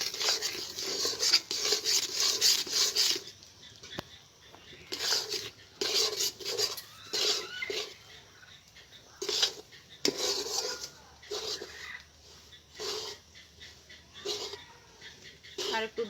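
A spoon scrapes and clinks against a pot in short, irregular bursts as puffed rice powder is stirred into milk, close and moderately loud, with quiet pauses between strokes.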